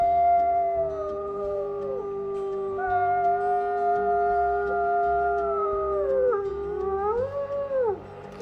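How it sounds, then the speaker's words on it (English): A wolf gives one long, wailing howl that rises, holds and bends downward, loud and close over a low rumbling background, with no voices. "He gave a long, wailing howl at the moon."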